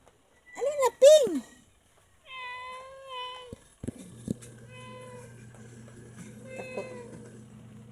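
A cat being given cough medicine lets out several close, loud, drawn-out meows, a few rising and falling in pitch, with short gaps between them and a person speaking a word.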